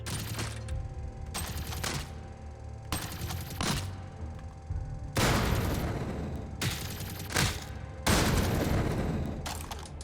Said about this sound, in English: we will throw our EMP grenade